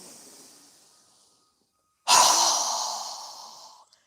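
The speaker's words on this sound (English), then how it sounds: "exhale with a strong breath as through our mouth as we lower our arms and hands down" A strong, forceful exhale through the mouth during a yoga breathing exercise, a single long breath fading out over about two seconds after a quieter earlier breath, close and clear.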